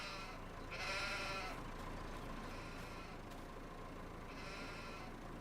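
Sheep bleat on a working farm in two bursts, one early and one near the end, set against a steady outdoor hum and low rumble, with no one speaking.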